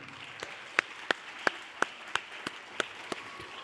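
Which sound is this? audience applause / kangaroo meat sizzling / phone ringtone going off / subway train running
audience applause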